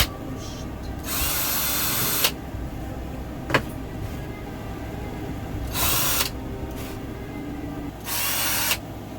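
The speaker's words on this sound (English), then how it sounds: "I'm just going to drill a hole right around the middle" A power drill whines in three loud bursts separated by pauses, drilling a hole through the middle of a Halloween skull decoration, with a sharp knock in between against a low background hum.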